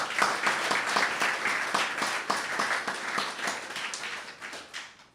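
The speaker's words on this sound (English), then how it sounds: "Give them a round of applause as well." Audience at an emancipation anniversary symposium applauding students, a continuous crowd clapping with distinct hand claps standing out, moderately distant and tapering slightly at the end.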